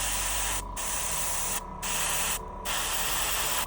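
An airbrush sprays matte varnish onto rocks on a miniature snow base in three loud hissing bursts with brief pauses between them, heard close up.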